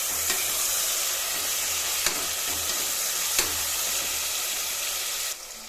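Onions, tomatoes and green chillies sizzle as they sauté in a pressure cooker, a steady frying hiss broken by a few sharp clinks and scrapes of a stirring spoon.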